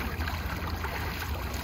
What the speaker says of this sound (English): And then I'm just going to give it a good swish in the water